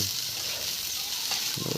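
Shrimp stirred and frying in a cooking pot, a steady bright sizzle with soft scraping of the stirring, ending in a brief louder rattle.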